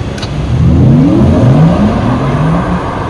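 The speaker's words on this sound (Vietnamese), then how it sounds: "bây giờ chúng ta sẽ thử xem chiếc này nó tăng tốc thì nó sẽ khỏe như nào các bạn nhé" A Porsche Taycan Turbo S electric car accelerates hard, its loud, rising electric whine sweeping upward in pitch over a rushing road and wind roar, close and sustained.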